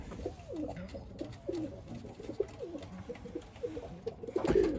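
Young tumbler pigeons coo repeatedly in soft, close, rhythmic phrases, with a brief rustle or flutter near the end.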